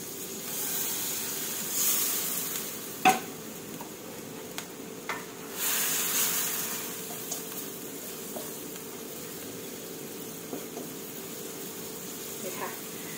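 Japanese cucumber stir-fried with egg in a pan gives a soft, continuous sizzling hiss, broken by a few sharp scraping clicks from stirring and small bursts of spatter.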